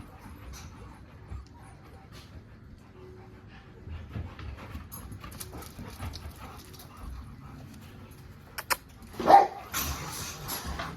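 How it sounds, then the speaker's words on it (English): Dogs moving around a backyard, with soft panting and scuffling at low level, a few quiet sounds building toward a brief louder burst near the end; some faint human voice in the background. "These beautiful pups."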